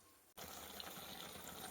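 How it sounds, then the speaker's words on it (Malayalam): Water is poured into a cooking pot of simmering elephant foot yam and taro in a home kitchen, a sudden steady gushing rush starting abruptly and running on evenly, close by and moderately quiet. "ഇനി ഒരിത്തിരി വെള്ളം ഒഴിച്ച് ഇങ്ങനെ അടപ്പത്ത് വയ്ക്കാൻ പാടും"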